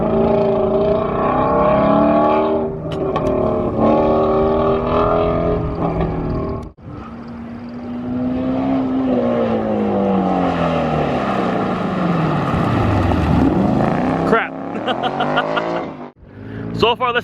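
A car engine revs and shifts repeatedly during an autocross run, rising and falling in pitch up close, with talk over it.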